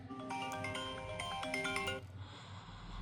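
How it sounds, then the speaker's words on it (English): An iPhone ringtone plays as its volume is turned up, a bright repeating melodic chime close to the phone that runs for about two seconds and then stops, leaving faint background hiss. "here you have to increase the ringtone and alert sounds"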